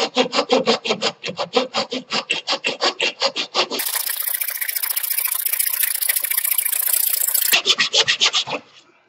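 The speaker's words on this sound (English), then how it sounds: "So I just followed it through with the hacksaw." A hacksaw blade cuts along a line in wood with rapid, even back-and-forth rasping strokes, up close. A steady, smoother grinding stretch sits in the middle before the short strokes return and fade out.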